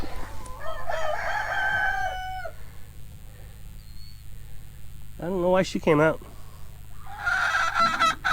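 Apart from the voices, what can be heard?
chicken clucking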